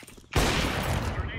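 Sudden close burst of rapid gunfire in a first-person shooter game, loud and dense, erupting after a quiet moment.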